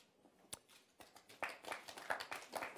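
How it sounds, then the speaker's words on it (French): Scattered hand claps from a small front-row group at a political press conference on Europe, quiet and uneven, starting as a few isolated claps and building into brief, modest applause. "Le premier rang applaudit"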